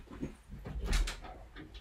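A dog whimpers and whines in short, high, nasal bursts indoors, fairly close and faint, with no talking.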